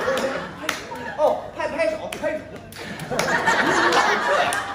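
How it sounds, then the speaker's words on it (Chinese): Audience at a Deyunshe crosstalk comedy evening show in Xinjiekou clapping along: scattered claps at first, swelling into steady, dense clapping in the second half, with voices and light laughter mixed in. "拍手"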